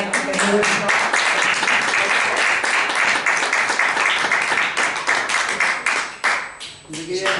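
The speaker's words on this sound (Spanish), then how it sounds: "Podemos aplaudir si os parece." Lecture audience applauding steadily for several seconds at a talk on the Arab world, a dense, sustained clapping wash that thins briefly near the end before picking up again.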